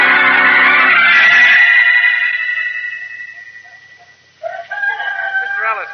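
A rooster crows loudly up close, a long drawn-out call that trails off, followed by a cluster of chicken clucks in a radio-drama farm scene, with no voices.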